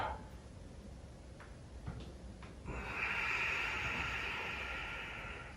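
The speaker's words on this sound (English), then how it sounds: "Inhale, look up. And exhale." A yoga practitioner's breathing during an intermediate yin and yang session with arm balances, a few soft clicks, then a long airy exhale swelling up and slowly fading, close and alone.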